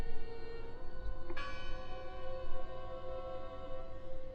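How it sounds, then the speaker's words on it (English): A bell in the video game Draugen rings out with a single struck tone, a long sustained ring with shimmering overtones that fades slowly over a low ambient background. "I heard the bell."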